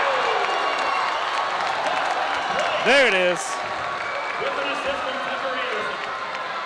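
Crowd at a varsity girls' high school basketball game erupts in a short burst of cheering after a lob throwdown, rising over steady gym noise with a commentator talking.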